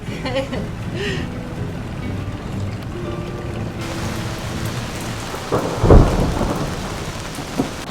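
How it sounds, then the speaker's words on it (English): Heavy rain pours down outside a cave with a dense, steady hiss that swells partway through, joined by a dull thump; faint voices are audible early on. "It's pouring rain."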